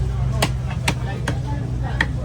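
A big tuna being chopped at Kasimedu fish market, four sharp, evenly spaced cleaver strikes through the fish, loud and close over a constant low market hum.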